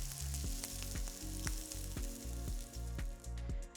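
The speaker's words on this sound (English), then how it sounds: "So brown them for a couple of minutes on each side until they're nicely golden and cooked through." Spiced veg-kraut fritters frying in a pan until golden, a steady close sizzle with rhythmic soft taps and scrapes every half second or so.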